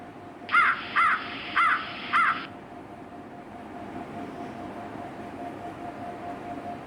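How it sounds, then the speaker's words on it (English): Four harsh crow caws in an evenly spaced series, fairly close, followed by quiet background hum. "Crow."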